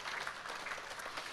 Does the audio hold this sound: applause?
yes